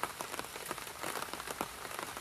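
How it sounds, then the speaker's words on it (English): Rain pattering on a tarp over a tent campsite by a lake, a steady, dense crackle of drops with occasional sharper taps, soft and close, with no voices. "Under a tarp, the rain."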